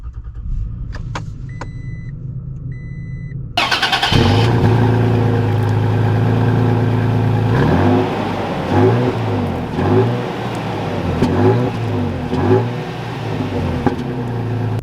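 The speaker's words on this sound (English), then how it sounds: "let's take this base model Tacoma out and see how it drives" Engine of a 2021 Toyota Tacoma SR base-model pickup starting up and pulling away, a steady close rumble that rises as the truck accelerates and shifts, with no talking.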